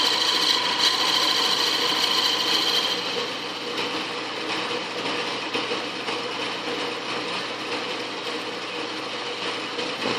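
Atlas lathe cutter shaping a wooden shaft end, a steady mechanical whir and scraping hum that stays loud throughout and eases slightly after the first few seconds.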